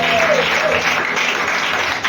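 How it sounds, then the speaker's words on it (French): A church congregation breaks into sustained, dense applause during a worship service, with many hands clapping together at a steady loudness for the whole stretch, close and enveloping. "Acclamons la victoire au nom de Jésus."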